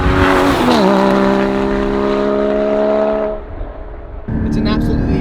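Engine of a 2016 Porsche Cayman GT4 pulling hard under way, loud and close with rising then steady revs, a brief dip in intensity, then a renewed surge; a voice talks over much of it.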